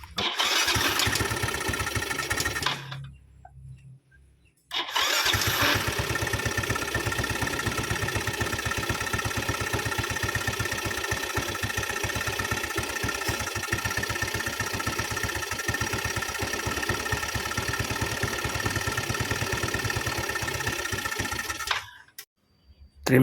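Yamaha Mio scooter with a serviced electric starter, the engine firing up and running loud and steady, a brief gap after a few seconds, then idling on before cutting off near the end.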